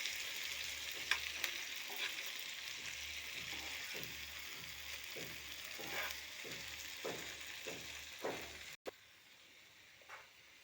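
Pre-boiled goat brain frying in a pan and turned over with a spatula: a quiet, steady sizzle with soft rhythmic stirring scrapes that stops abruptly near the end.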